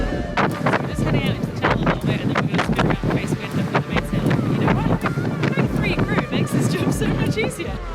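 A sailboat heads out into a channel off Scotland in strong wind, with heavy gusty wind buffeting the microphone and rushing water around the hull throughout while people talk.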